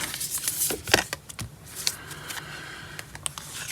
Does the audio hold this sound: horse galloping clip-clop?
no